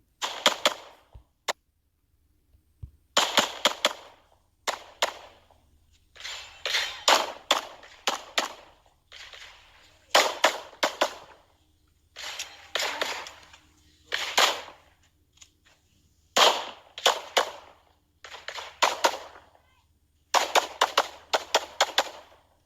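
A Glock 45 pistol fires during a USPSA match stage in sharp, close strings of rapid shots, grouped into bursts separated by short pauses across the whole run.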